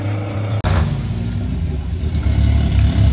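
Drag racing car at a Sorocaba strip, its engine roaring loud and close, revving up and pulling hard under full throttle after a sharp break, the note climbing through the run.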